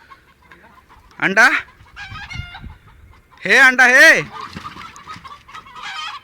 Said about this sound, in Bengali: মুরগিগুলো খুব ঝাঁপাঝাঁপি করছে আর চিল্লাচ্ছে